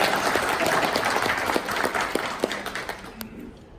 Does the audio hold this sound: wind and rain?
no